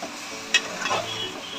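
Water poured from a mixer jar into a pan of frying ginger, garlic and onion for soya chunks biryani gives a soft sizzle and hiss close by, with a brief sharp clink and some stirring scrapes.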